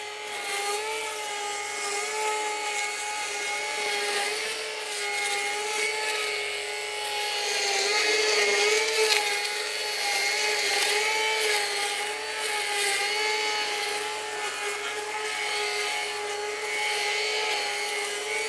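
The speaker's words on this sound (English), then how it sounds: "We're now going to try the blade attachment on the multi-tool system." A multi-tool brush cutter fitted with a blade attachment runs at high revs cutting through heavy growth, a steady whining motor drone with slight swells in pitch, close and continuous for the whole stretch.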